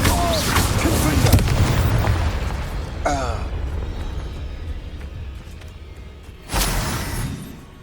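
Fiery Confringo spell blasts explode in the Hogwarts Legacy video game, a heavy boom that rolls on for a few seconds and then a second sharp burst near the end, with game voices shouting over the noise.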